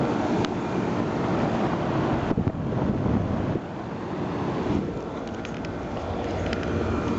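A Trane XB10 air conditioner with dirty coils and a GE 1100 RPM, 1/10 horsepower fan motor runs outdoors, a loud steady whooshing drone close to the microphone with some wind buffeting.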